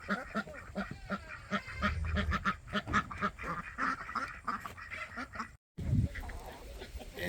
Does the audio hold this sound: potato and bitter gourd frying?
no